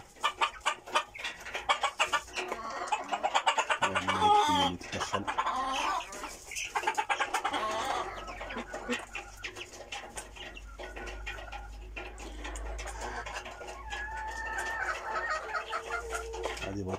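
Backyard chickens and an Aluminium-breed rooster cluck busily and close up, with a dense run of clucks at first and then softer scattered calls over a low hum, with someone talking at times.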